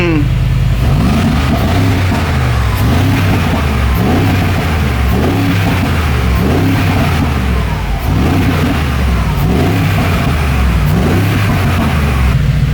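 A Mercedes G63 AMG with its exhaust button engaged revs repeatedly, each loud throttle blip rising and falling in a deep roar over a continuous rumble, with people talking faintly underneath.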